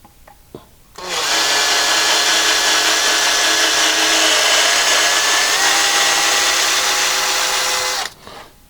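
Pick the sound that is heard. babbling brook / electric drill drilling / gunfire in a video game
electric drill drilling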